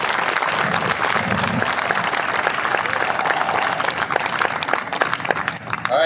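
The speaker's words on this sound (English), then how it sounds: "I'd just like to give them a round of applause and appreciation for the hard work that they do all year round" Applause for a New York State Police underwater recovery team of divers at an exhibit demonstration: a crowd claps steadily and fairly loudly for the whole stretch, dense and even, with some voices mixed in.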